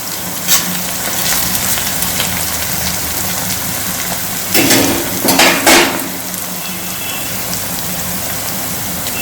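Garlic sizzling loudly in a hot pan while making baingan bharta, a dense, continuous crackling fry with a brief burst of heavier spattering partway through.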